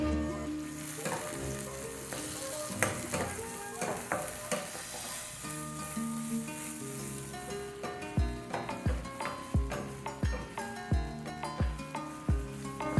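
Chopped onion, green chilli and small tomato pieces sizzle steadily in hot oil for masala Maggi, with stirring and spatula scrapes growing into a rhythmic series of knocks toward the end.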